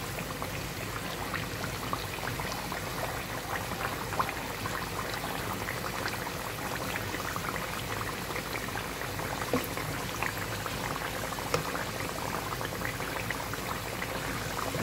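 Sweet potato slices for camote cue deep-fry in oil, giving a steady, dense crackling sizzle that stays even and moderately loud for the whole stretch, with no talking.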